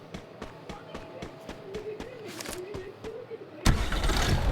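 In the Free Fire video game, rapid rhythmic tapping steps give way to a vehicle engine suddenly starting, then running loud and rough up close.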